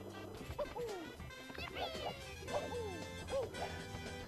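Scary dog enemy in Super Mario 64 on Bob-omb Battlefield giving repeated barking, yapping game sound effects, with someone talking over the game audio.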